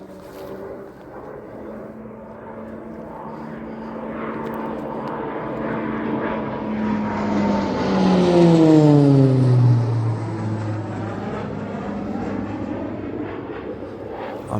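A Texan propeller aircraft flies through the Mach Loop, its engine drone rising as it nears and then dropping in pitch with a clear Doppler sweep as it passes close and fades out.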